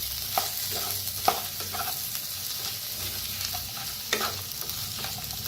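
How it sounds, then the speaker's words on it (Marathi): A spoon stirs a potato and vegetable mixture in a hot pan, giving occasional scraping clicks over a continuous soft sizzle, close up and without speech. "आता मिक्स करून घेऊया"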